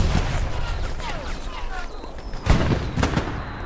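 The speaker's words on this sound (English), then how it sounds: "I'm gonna shoot at it." Gunfire in Hell Let Loose, a World War II shooter: a few sharp, booming shots ring out over a constant rumble of battle, the loudest a couple of seconds in.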